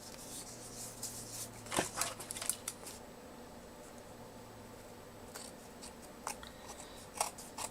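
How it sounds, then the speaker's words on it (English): Tiny scissors snip through paper for a handmade junk journal, a handful of quiet, crisp cuts scattered at irregular intervals over a soft, close room background. "Do you guys use like tiny little scissors like this?"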